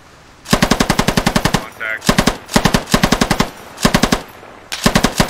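A video-game machine gun fires in five quick, loud bursts of evenly spaced rapid shots, each burst cut off by a short pause, close and punchy.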